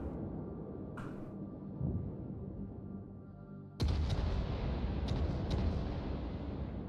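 Warship guns fire in a naval video game with a few heavy booms, one faint early shot and then a loud blast followed by quick further reports, over a constant low engine-like rumble.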